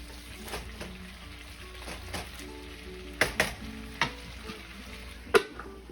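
Beefsteak and string beans sizzle steadily in a pan, with a soft continuous fry broken by several sharp clanks of a utensil stirring against the cookware, close and moderately quiet.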